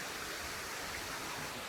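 Water flowing steadily in a Japanese garden at Kokoen, Himeji, a constant broadband rush with no pauses or voices.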